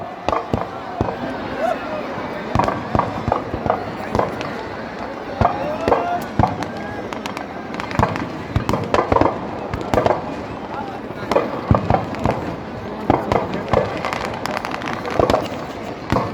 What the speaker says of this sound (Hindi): देखिए पटाखों की जो गड़गड़ाहट है